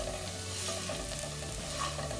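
Masala and potatoes stirred in a pan over a low flame for a Nepali Thakali thali, giving a steady soft sizzle with gentle scraping, close and even throughout, with no talking.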